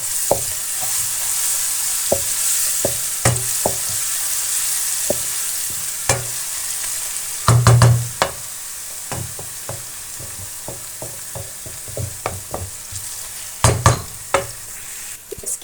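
Onions frying with ginger garlic paste in a pan, a steady sizzle under scattered clinks and scrapes of a spoon stirring, with no talking.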